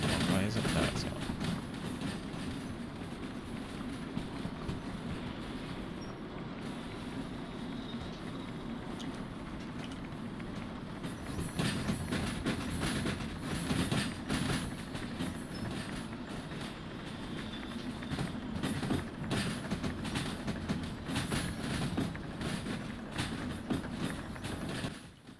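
Train running on rails in the Derail Valley simulator game, a sustained rumbling roll with rhythmic clickety-clack and occasional wheel squeal, steady and close throughout, with someone talking over it at times.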